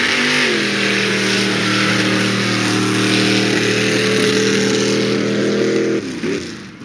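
The Subaru mud drag racer 'Flippin' Crapinator' idles and revs loudly at a mud drag racing event, a sustained rough engine drone that climbs in pitch before dropping off near the end.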